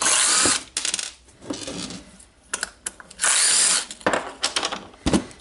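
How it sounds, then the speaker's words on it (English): A power driver unscrews the back cover screws of a Dewalt DCN692 nailer, giving several short, close whirring bursts with pauses and small clicks of metal parts between them. "we need to unscrew the screws here, I hope so, or the back cover"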